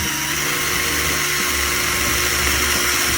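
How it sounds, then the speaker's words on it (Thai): An electric drill with a small bit whirs continuously at high speed, loud and close, with a steady whine, while fitting handlebar grips on a Honda Forza 350 scooter. "ให้ใช้สว่านแบบสว่านไฟฟ้าอย่างนี้ก็ได้นะครับ พร้อมกับดอกสว่าน เบอร์เล็กๆ หน่อย"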